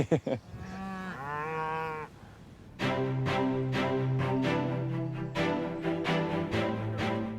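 Dairy cows on a Cornwall farm moo in a string of long, loud, close calls, one drawn-out low moo followed by overlapping lowing from several animals, with no talk over them.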